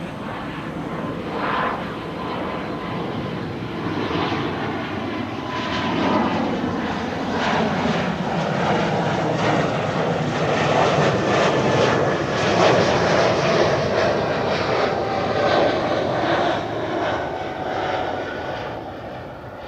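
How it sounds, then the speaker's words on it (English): A KLM Embraer 195-E2 jet taxiing or departing at Amsterdam Schiphol gives a steady, loud engine roar that swells and holds for about twenty seconds, with no voices. "E2 Embraer 195 to Gdansk, KLM Flight"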